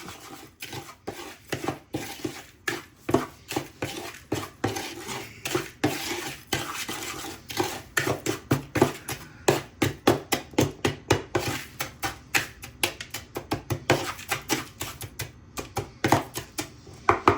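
Chicken finger batter being mixed in a bowl: a steady run of close, rhythmic utensil clinks and scrapes against the bowl, speeding into quick regular strokes with no talking.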